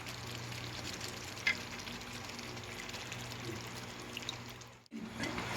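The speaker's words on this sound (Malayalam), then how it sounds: "അതിലേക്ക് ഒരു 100 മില്ലി ഫ്രഷ് ക്രീം ഒഴിക്കുക" Fresh cream goes into a simmering Hyderabadi Maharani chicken curry, with a soft, steady bubbling sizzle and faint pouring trickle, a brief clink partway through, and a short lull before the sound resumes.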